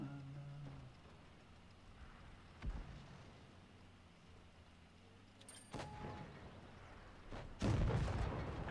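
A tank gun fires in WoT Blitz with a few distant thuds and booms spread across quiet engine rumble, ending in a louder blast near the close.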